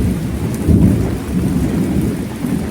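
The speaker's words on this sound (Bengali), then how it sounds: "আকাশে বিজলি তো আওয়াজ পাচ্ছেন" Heavy rain pours steadily in a village with a low, continuous rumble underneath, like distant thunder rolling through the downpour.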